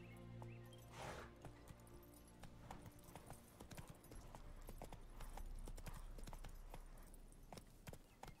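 Roach the horse walks along a path in The Witcher 3, with steady clip-clop hoofbeats close by in an even rhythm, plus a brief snort near the start.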